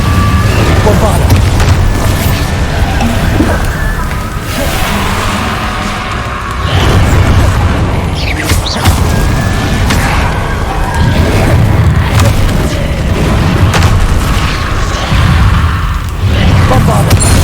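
Bombarda blast spells in a wizarding action video game, repeated deep booming explosions with rumbling impacts, loud and close, mixed with game effects and spoken spell incantations.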